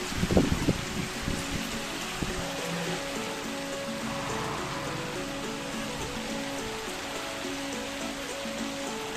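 Steady rain pours down in a home garden with sakura trees, a dense continuous hiss of drops on surfaces with a few louder splashes at the start.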